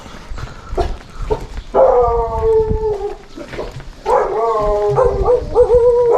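Several dogs howl in long, wavering tones, mixed with scattered barks and yips, fairly close and loud over a noisy background.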